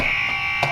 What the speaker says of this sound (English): so we'll hit the buzzer and explain why